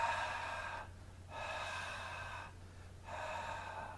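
Three long, forceful exhaled breaths on a sustained breathy H sound, each lasting about a second, separated by short pauses. Close and moderately loud with nothing else in the background.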